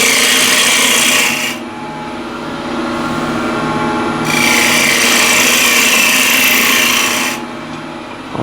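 A yew box being shaped on a woodturning lathe: a steady motor drone runs throughout, broken by two long, loud bursts of rasping, hissing cutting as the tool bites the spinning wood, with a quieter gap between them.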